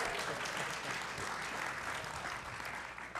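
Applause from the audience at a county transportation and environment committee worksession in Silver Spring, a steady, moderately faint patter of many hands clapping throughout, with no talking over it.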